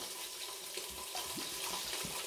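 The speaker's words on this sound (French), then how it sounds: "Alors, on va mettre le vin blanc." White wine poured into a pot for veal osso buco, a faint steady liquid pour with light gurgles and splashes throughout, heard close in a quiet kitchen.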